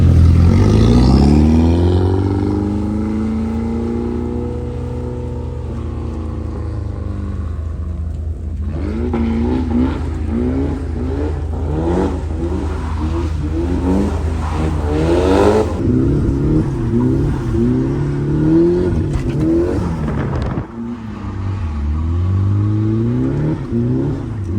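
A car accelerates hard through the gears on a wet track, engine revving up in steep climbs with gearshift breaks between pulls, loud and close, with no talking.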